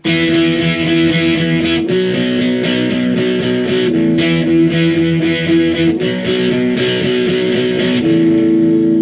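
Distorted electric guitar plays the first guitar's bridge part of a song: loud, sustained chord riff repeating in roughly two-second phrases with steady picked strums, no voices.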